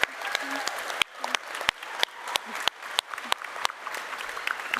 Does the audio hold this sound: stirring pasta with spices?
no